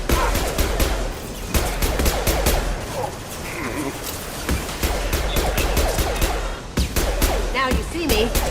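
Gunfire in the Mass Effect video game: dense, loud bursts of rapid automatic shots, with brief breaks and occasional crashes, running almost without pause.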